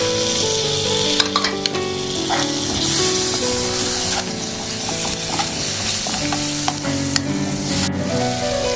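Crushed shallots and ginger hit hot oil with chillies, giving a loud, continuous sizzle and crackle with stirring clatter and occasional sharp spatters throughout.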